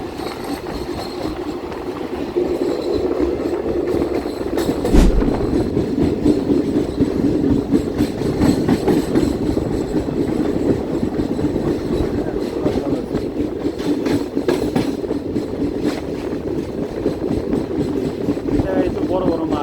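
The 13063 Howrah Balurghat Express rolls on its rails near Farakka bridge, a loud, continuous rumble from inside the train with rhythmic clickety-clack wheel beats and brief squeals, while people talk over it.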